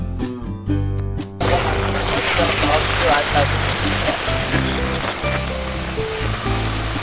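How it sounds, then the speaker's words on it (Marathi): Steady heavy rain hisses across the whole clip, dense and loud, after a brief musical opening; a voice speaks faintly beneath the downpour. "एवढ्या पावसामध्ये गुरुजीत बघा माझ्यासाठी आलाय सोडायला."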